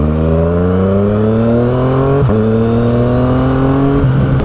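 A Yamaha FZ-09 motorcycle rides hard and loud, its engine note climbing steadily through the revs with brief dips at a couple of gear shifts before rising again.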